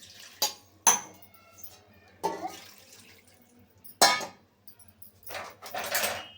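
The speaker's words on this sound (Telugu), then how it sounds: "మటన్ ఉడకడానికి కొన్ని నీళ్లు పోసుకుందాం" Water poured into a pressure cooker holding mutton, in a home kitchen: a few short, separate splashes and clinks of metal vessels, with quiet gaps between them.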